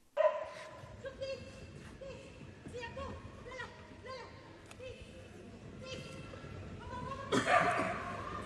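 Several dogs bark and yip in a rapid, uneven series, with some whimpering, close and fairly loud, ending in a louder burst of noise; a person's voice is also heard.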